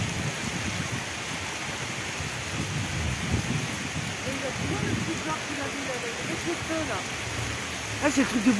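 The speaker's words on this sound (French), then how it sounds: "Il pleut à torrent, il pleut." Steady heavy rain pours down continuously in Les Minguettes during a night of rioting, a dense hiss with scattered louder patters near the end.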